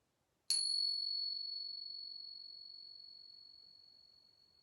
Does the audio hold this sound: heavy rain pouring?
no